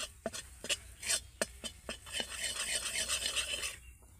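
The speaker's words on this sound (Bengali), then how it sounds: "ময়দাটাকে বাটারের সাথে এইভাবে ভালো করে মিশিয়ে নেব।" Flour being stirred into melted butter in a pan for a homemade pizza recipe, heard as close scraping and tapping of the utensil followed by a steadier rasping stir, with no voices.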